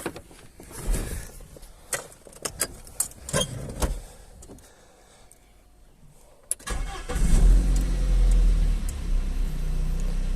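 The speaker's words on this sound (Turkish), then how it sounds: "Şimdi marşa basacağız." After an oil and diesel engine flush, a car's starter clicks and taps several times before the engine catches and settles into a loud, steady low idle heard close up.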